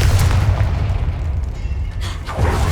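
A Confringo fire spell bursts in Hogwarts Legacy inside a decaying catacomb, producing a loud, deep booming roar that fills the whole moment, with a second swell near the end.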